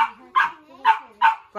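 A dog lets out a rhythmic series of close, loud whining yelps, about three evenly spaced cries, each sliding down in pitch.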